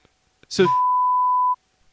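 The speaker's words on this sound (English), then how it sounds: "You got to beep that out." A loud, steady censor beep cuts in over speech and holds at one pitch for about a second before stopping abruptly.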